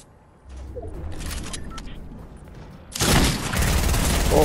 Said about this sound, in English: Who the hell's firing at me?